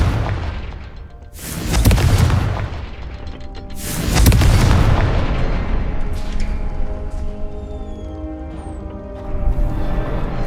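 Two heavy booming blasts from the Confringo fire spell in Hogwarts Legacy land a couple of seconds apart, each rolling away into a lingering rumble beneath game music.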